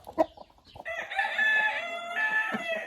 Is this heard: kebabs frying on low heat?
no